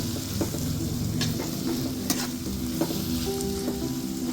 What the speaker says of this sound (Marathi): आणि आता याला चांगलं मिक्स करून घेऊया आपण.